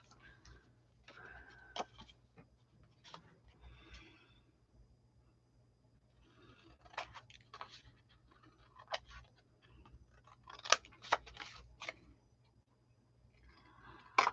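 White paper pieces being trimmed from embellished journal pages, probably with scissors, giving faint, sparse snips and paper rustles in scattered bursts with quiet gaps, closer clusters of quick cuts later on.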